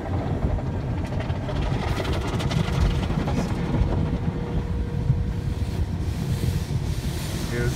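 A brand-new automatic car wash runs over a car, making a loud, continuous close-up rush of spraying water and machinery that stays steady throughout.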